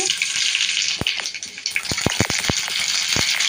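Mustard seeds hitting hot oil in a pan, giving a run of sharp close pops and crackles over a steady sizzle.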